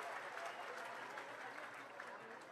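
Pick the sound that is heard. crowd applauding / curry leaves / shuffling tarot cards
crowd applauding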